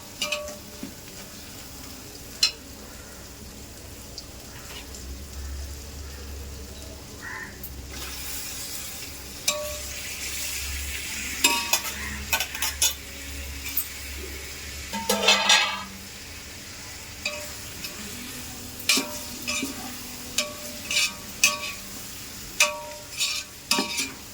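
Tomatoes fry with ginger in a pan for mutton biryani. The steady sizzle comes with repeated scraping and clinking of a spoon stirring against the pan, close and fairly loud, with no voices.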